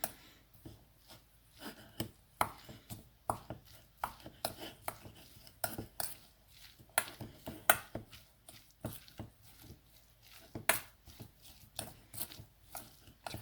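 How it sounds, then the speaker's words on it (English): Soya chunk chick'n salad with mustard is stirred and mashed in a bowl, giving repeated irregular scraping and tapping strokes of a utensil against the dish, close and moderately loud. "we can start mixing everything together"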